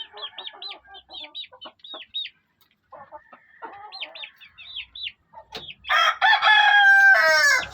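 Young stag chickens of the Talisayin type crow several times in a row, near and loud, with repeated crowing phrases that grow louder and fuller toward the end, heard alone without talk.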